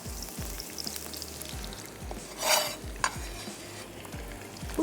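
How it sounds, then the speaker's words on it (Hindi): Chopped onion sizzling and frying in hot oil in a pan, a steady bubbling crackle with scattered stirring scrapes and clinks, close and alone without talk. "यहाँ पर मैं ऐड कर देती हूँ प्याज, क्योंकि ऑयल जो है वो अच्छा सा गर्म हो चुका है।"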